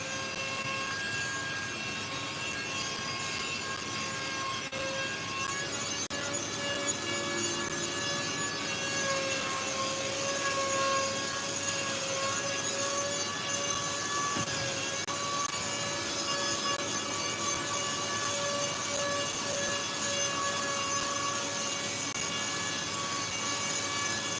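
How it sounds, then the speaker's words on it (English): Small handheld vacuum cleaner running steadily throughout, a continuous whining motor drone with sustained tonal hum, fairly loud and close, with no speech over it. "I'm just using one of these little handheld vacuums, so please don't be alarmed."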